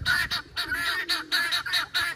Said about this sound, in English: The guineas are just singing over here.